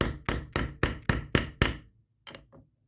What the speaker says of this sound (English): Tap the pin in.